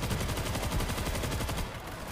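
A heavy gun fires in rapid sustained bursts in the zombie shooter World War Z, loud and continuous before easing slightly near the end, with no talk.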